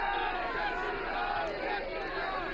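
A dense crowd outdoors in Delhi greeting Prime Minister Modi at a memorial, many voices blending into a loud continuous roar of shouting and chatter with no clear rhythmic chant standing out.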